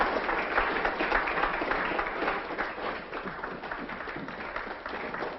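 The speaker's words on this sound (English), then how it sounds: "Does the applause warrant an encore?" Steady applause from a sizable audience, dense and continuous, easing slightly toward the end but still going.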